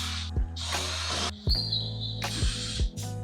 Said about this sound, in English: I started by detaching the seat from the chair with my drill